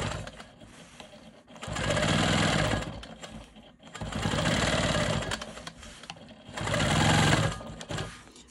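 Sewing machine doing simple ruler-guided quilting on a quilt block: three bursts of steady, rapid needle stitching, each lasting about two seconds and separated by short quiet pauses, close and clear.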